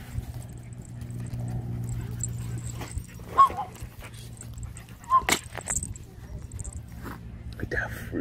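Dog barking and growling at a rat, a few short sharp outbursts rising over steady background noise and voices talking.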